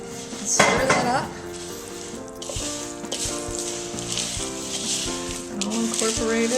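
Oats being stirred with a hot poured mixture in a kitchen for fruit and oat bars, a steady close scraping and sizzling bustle with faint clinks of utensils against the bowl throughout.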